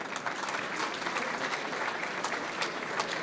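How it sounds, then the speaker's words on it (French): Sustained applause from a sizeable crowd at a trophy awards ceremony in Montreuil, dense and even clapping that holds steady throughout. "Il faut continuer à applaudir Alissandre."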